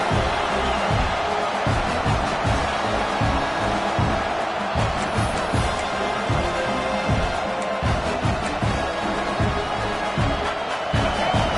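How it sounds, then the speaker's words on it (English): Home crowd roaring in a College Football 25 video game, a dense, steady wall of cheering that stays loud and continuous throughout. "this home crowd is fired up and ready to make a difference today"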